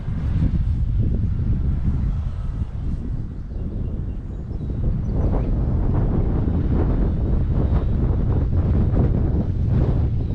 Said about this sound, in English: If you can even hear anything with all the wind hitting the microphone.